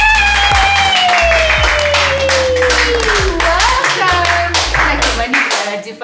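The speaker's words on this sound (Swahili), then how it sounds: "Na nataka tuwapigie makofi." Studio crew clapping together for guests on a talk-show set, a loud, steady burst of many hands across the whole stretch, with a sustained tone and background sounds running underneath the applause.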